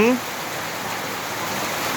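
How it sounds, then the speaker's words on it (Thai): Steady rain falls in a continuous broadband hiss at a constant moderate level, briefly overlapped at the very start by a short voice. "เดี๋ยวให้ฝนหยุดสักนิด"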